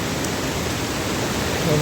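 Floodwater from the Aluva river overflows its banks in a constant, close rush, a dense hiss of churning water that holds steady throughout.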